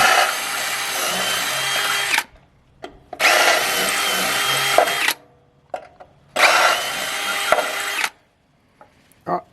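A power drill bores 4 mm outboard mounting holes in a boat hull in three loud, close bursts of a few seconds each. Brief clunks and handling noises fill the quiet gaps between them.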